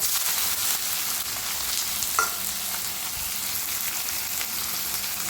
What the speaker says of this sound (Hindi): इस प्याज को डालेंगे अब